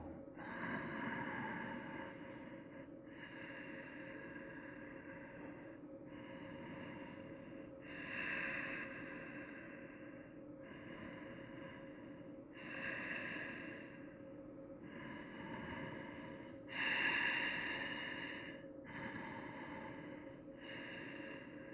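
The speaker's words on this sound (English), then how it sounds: "Keep with your breath, slow and calm." Slow, calm breaths during a yoga flow, drawn out in a steady repeating rhythm of long inhales and exhales, close and soft with a faint tonal hum beneath and no talking.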